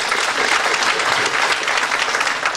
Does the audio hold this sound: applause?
yes